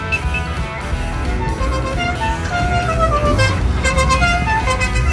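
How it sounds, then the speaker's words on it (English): Tiny cars in a village parade on the Camino honk short toots over a dense rumble of engines, with horn blasts piling up and overlapping toward the end, loud and close. "it looked like half the village had climbed into these tiny cars"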